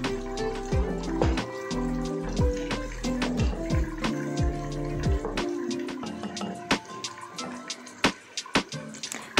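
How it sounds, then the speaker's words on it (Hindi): Chicken stock (yakhni) poured into a pot for chicken palao, a liquid stream splashing and gurgling for several seconds, then trailing off into scattered drips and clinks. "अब इसमें यखनी ऐड करेंगे।"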